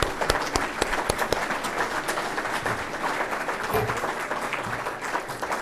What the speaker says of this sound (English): If everyone could give Alex a round of applause.